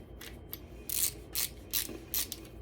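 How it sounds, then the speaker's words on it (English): A ratcheting screwdriver fitted with Torx and Phillips bits clicks in several short quiet bursts of rapid pawl ticks, close up, with no speech. "This one I like a little bit better because it's a ratcheting,"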